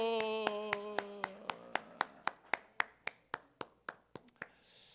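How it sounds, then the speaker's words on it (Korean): A church congregation at a Sunday worship service at a Methodist church in Miryang claps about sixteen crisp, evenly spaced claps, loud and near at first with a sung tone underneath, then fading slightly toward the end. "박수."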